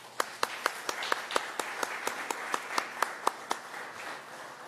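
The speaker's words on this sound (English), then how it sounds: "Let's give them a round of applause." Audience at a press event for a new restaurant, brewery and beer garden claps in a fairly quiet, even rhythm, with one or a few nearby claps standing out over a soft wash of scattered applause.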